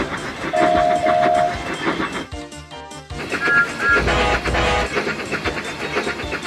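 A model train runs on its rails, rumbling and clattering loudly nearby, with brief whistle-like tones and a short break mid-way before the running noise resumes.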